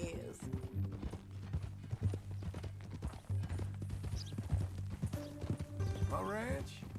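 Steady clip-clop of horse hooves at a walking pace, with voices talking and music playing over it.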